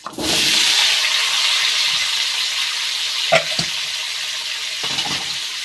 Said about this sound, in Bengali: এবার এই তেলের মধ্যেই কুমড়া আর আলুটা ভালো করে ভেজে নেব।